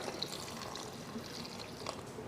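A cup of water poured into a pot of guava for homemade jam, a soft, steady splashing trickle close by in a quiet kitchen.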